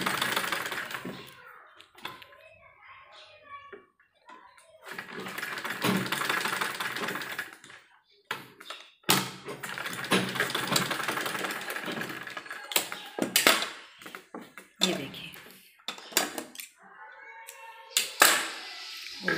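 A sewing machine stitching folded fabric for a baby's jhabla, running in short rattling bursts with pauses and clicks between, close and moderately loud, no speech.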